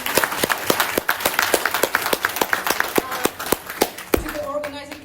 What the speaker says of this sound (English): Maybe we can applaud a little bit.